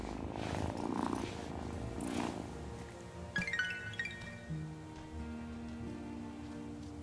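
A cat purrs in the farming game Wylde Flowers, a soft rumbling purr up close over light rain patter and a few faint chiming game tones, with no talk.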